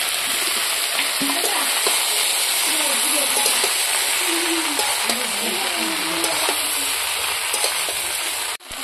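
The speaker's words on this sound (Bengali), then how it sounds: "আর দিয়ে দিব ভাজা করা আলু" Fried potatoes tipped into a pan of sizzling masala, following fried cauliflower, soy chunks and chickpeas, with a steady frying hiss and stirring scrapes running throughout and a voice talking over the cooking.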